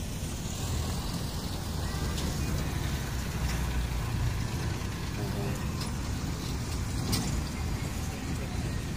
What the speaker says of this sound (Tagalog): Ito yung nag-aakot ng basura, yung truck.